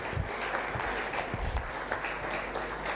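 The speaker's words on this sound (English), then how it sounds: "May we give them a round of applause as they go back." Audience applause for schoolchildren from Chireka Church of Uganda Primary School at a community dialogue event, a steady dense clapping that fills the room from start to finish at an even loudness.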